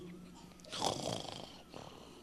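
A voice imitates snoring with a single drawn-out, rasping snore of moderate loudness, followed by a fainter breathy tail.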